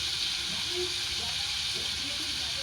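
Crab sour curry boiling in a pot on a gas stove, a steady broad hiss with faint bubbling underneath that continues evenly throughout.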